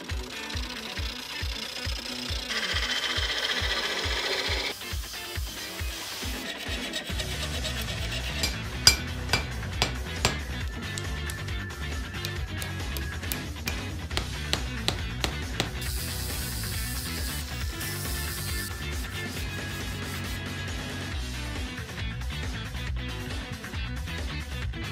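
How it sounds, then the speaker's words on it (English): A chunk of holly wood spins on a lathe as bulk material is cut away, giving a steady motor drone with rapid rhythmic knocking and sharp intermittent clicks of the tool chattering against the wood, close and continuous, with no talking. "I'm gonna remove the majority of the material on the lathe before I shape it anywhere else."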